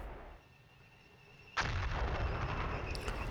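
Artillery firing in the wargame Flashpoint Campaigns: Southern Storm, with a low, quiet hum giving way to a single sudden, loud boom that keeps a dense, roaring wash of sound going to the end.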